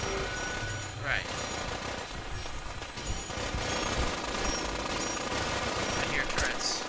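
Bursts of automatic gunfire from turrets in Fallout 4 survival mode rattle at a moderate distance, with scattered shots and brief louder cracks over a constant background hum.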